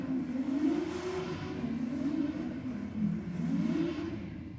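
A drag racing car runs down the strip at Sydney Dragway, heard from a distance as a steady, moderately faint engine drone that rises and falls in pitch through gear changes over a constant rumble.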